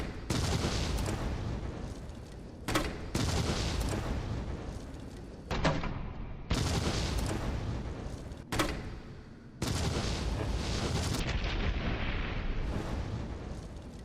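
A grenade launcher firing explosive rounds in the game Resident Evil 3 Remake, a series of loud, long booming blasts with rumbling tails, each cut off abruptly before the next, with no speech.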